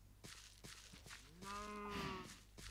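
A Minecraft cow gives one drawn-out low moo over steady rhythmic footsteps and a faint background hum, quiet and with no voices over it.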